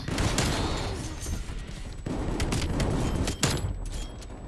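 Repeated shotgun blasts in a shooter video game crack out in quick succession, loud and close, with a few sharp reports standing out over a dense rumbling background.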